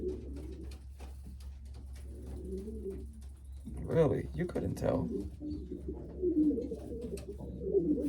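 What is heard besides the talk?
Staff Van Riet racing pigeon cooing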